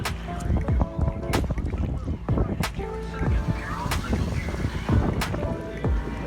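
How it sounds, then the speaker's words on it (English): A sailboat beating upwind toward an anchorage in Charleston Harbor, with steady rushing wind and water noise against the hull, plus intermittent knocks and creaks, close to the microphone. "So I'm sailing upwind right now. So I'm just beating it down."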